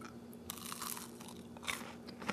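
A crunchy churro dipped in chocolate fondue is bitten into, giving close, loud crisp crunches in a few bursts followed by chewing, with no talking.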